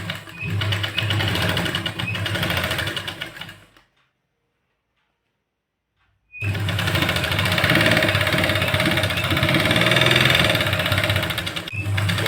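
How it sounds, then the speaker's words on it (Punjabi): A sewing machine stitches a double seam on a salwar with a fast, steady mechanical whir, broken by a few seconds of silence before the close, loud stitching starts again. "ਹੁਣ ਆਪਾਂ ਇਹਦੀ ਸੀਨ ਲਾਉਣੇ ਆ ਤੇ ਸੀਨ ਇਹ ਝੋਲੀ ਵਾਲੀ ਸੀਨ ਆਪਾਂ ਕਰਾਂਗੇ"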